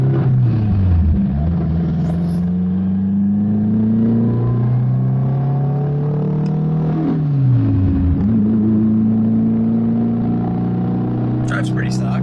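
A 600-horsepower Subaru WRX pulls hard on a track, its engine droning loud and close inside the cabin as the pitch climbs through gears and drops at shifts, while people talk over it.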